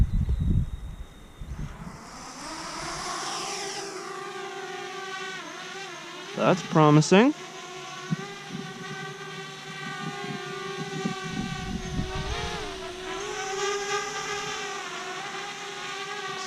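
A newly built TBS Source 2 5-inch FPV quadcopter arms and spins up its motors. A rising whine settles into a steady layered hum as it flies, with a brief spoken remark early on.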